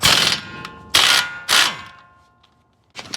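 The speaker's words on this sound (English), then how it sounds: "let's take our 13mm socket and remove the nut that's on the axle" A 13mm socket wrench loosens the axle nut on a Ford. Three loud, rapid ratcheting bursts come close together, a brief pause follows, then a shorter burst starts up at the end.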